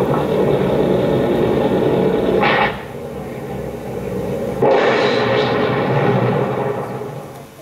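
An airplane passes overhead as a broad, rumbling drone, steady at first, then it dips and surges again before slowly fading.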